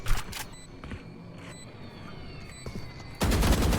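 Rapid bursts of gunfire from the video game Valorant, with sharp repeated shots at the start and a dense, loud volley near the end, over a steady game background with faint tonal cues.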